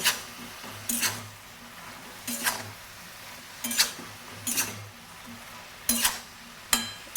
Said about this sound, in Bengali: এখন এগুলো দিয়ে ভালো করে মিক্স করে নেব